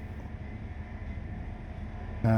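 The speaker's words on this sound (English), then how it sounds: "So there's the train" A train rolls along in the Train Life railway simulator, a low, steady rumble holding at an even level, then a sudden louder tonal sound like a horn or engine note cuts in right at the end.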